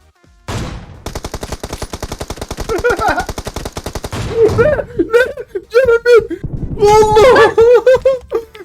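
Rapid automatic M4 rifle fire in a shooter video game rattles in long, loud sustained bursts, with a player talking and laughing over the final stretch.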